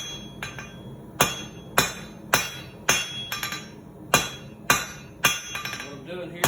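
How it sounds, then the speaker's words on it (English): A blacksmith hammers half-inch square steel stock on an anvil, the hammer face half on and half off the edge, ringing metallic strikes at an uneven pace of about one per half second, close and clear. "my hammer face is half on the anvil, half off the anvil"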